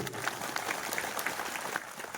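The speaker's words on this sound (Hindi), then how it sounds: "कवासी लखमा जी के जोरदार ताली बजाइए" Faint, distant clapping from a crowd at a political rally in Bastar, thin and steady, with some scattered louder claps and a few indistinct voices.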